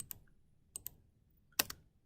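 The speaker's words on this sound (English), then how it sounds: "Hit spacebar again on the keyboard." Spacebar on a computer keyboard pressed in CAD software, a handful of crisp close key clicks in short bursts, a single tap, a quick double, then two louder presses, over quiet room noise.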